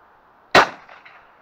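A single shotgun blast fired at pigeons outdoors, a sharp loud crack with a short decaying tail and a faint trailing echo, alone with no talk.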